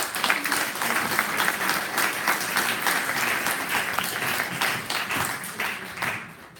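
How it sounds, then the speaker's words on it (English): Sustained applause from an audience at an academic panel event, steady clapping throughout at even loudness, thinning out near the end. "I want to give a round of applause for"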